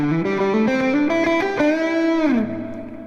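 A distorted electric guitar rips through a fast pentatonic run of notes ending in a bend that fades out, loud with no voices.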